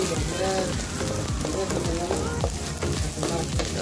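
Shallots and headless, washed anchovies sautéing over a cooking fire in Tanzania crackle and sizzle in a close, continuous, rain-like hiss while a voice talks over it.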